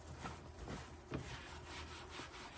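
A sponge rubs conditioner into a leather handbag with steady, close scrubbing strokes, a soft continuous friction with a slightly louder swipe near the middle.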